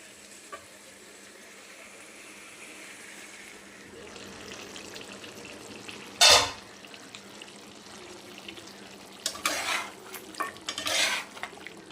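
Meat, potato and papaya stirred in a pan over a quiet background sizzle, with a loud scrape of the utensil midway and a cluster of scraping strokes near the end.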